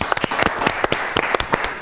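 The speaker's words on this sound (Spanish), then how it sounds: "vamos a recibir con un aplauso a Fernanda Vallijos." Studio audience in an Argentine television talk show breaks into applause, a dense continuous crackle of many hands clapping with sharper individual claps popping out throughout, steady and fairly loud.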